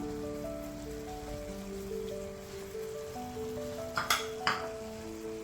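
Tomatoes sauté in a pan for tomato chutney, giving a steady soft sizzle beneath a faint background tone, with a few sharper clinks of a utensil against the pan near the end.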